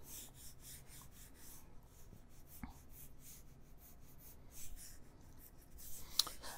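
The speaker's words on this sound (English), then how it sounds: "I'm going to be sketching very, very, very lightly." A pencil sketches a sedan front-end car design with very light, soft strokes, producing faint, quiet scratching and rubbing in short repeated passes on paper, with no speech.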